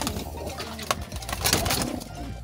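Pigeons coo in a loft, low murmuring calls repeating steadily beneath shuffling and wing movement, with a brief sharp flap near the middle.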